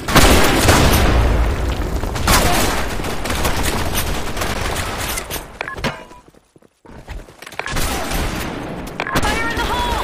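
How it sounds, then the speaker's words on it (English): Grenade blasts and heavy gunfire in a Sand Storm multiplayer shooter match, loud booms and rapid bursts crowding the opening seconds, a brief near-silent lull, then more shots, with players shouting over the action. "Grenade!"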